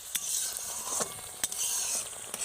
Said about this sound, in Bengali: আবারও একটু এইভাবে নেড়ে দেব